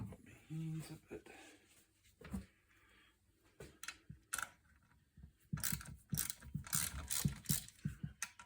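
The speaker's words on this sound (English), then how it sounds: "So we'll take the old carburetor off first." A ratchet undoes the bolts holding the carburetor on an Atom lawn edger, with bursts of rapid clicking in short runs, close by, mixed with tool handling and someone talking in between.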